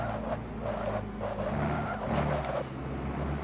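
A car engine drones steadily in the Forza racing video game while its tires skid and squeal through a drift, loud and continuous with no talking over it.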